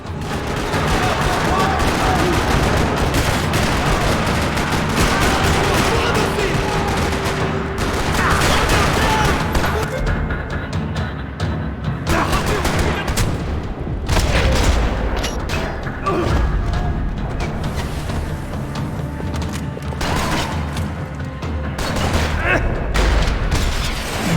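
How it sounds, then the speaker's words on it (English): Rapid bursts of gunfire crackle and rattle almost nonstop in a parking lot in Max Payne 3, with booms and heavy volleys, dense and loud throughout, game-style combat audio. "Another parking lot rattling with gunfire."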